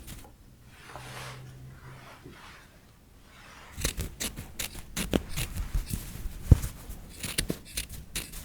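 Scissors cutting fabric up close, with quiet handling at first, then a run of crisp snips and crunchy fabric cuts with sharp clicks of the blades.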